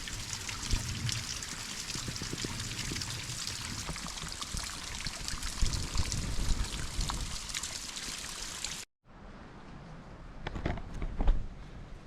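Water trickles and splashes steadily through a narrow stream passage near a freezing waterfall, a dense close hiss that cuts out abruptly, then returns more sparsely with scattered drips.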